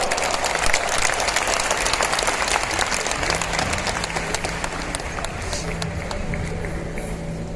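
A large audience at a film festival closing ceremony in Goa keeps up thick, sustained applause, loud at first and easing slightly, with a faint voice briefly audible underneath the clapping.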